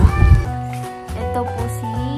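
A newly adopted kitten named Kuting, missing one leg, meows repeatedly and loudly up close, drawn-out wavering cries following each other with little pause.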